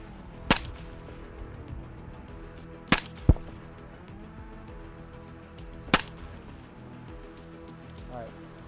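Suppressed rifle shots are fired at a target 450 yards away. Three sharp, fairly muted cracks come several seconds apart, each with a brief follow-up report, over a low steady background.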